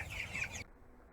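Chickens clucking on a small farm where members raise poultry, a short close burst of bright clucking that cuts off abruptly, leaving quiet background noise.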